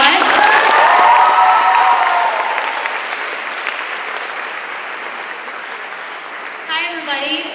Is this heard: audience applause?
yes